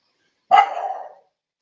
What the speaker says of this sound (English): Don't bark at your mama.